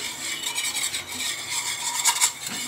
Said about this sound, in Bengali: আমি হ্যান্ড হুইল দিয়ে একটু নেড়ে দিচ্ছি